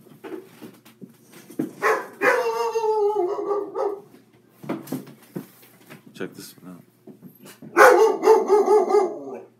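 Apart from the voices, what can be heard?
dog barking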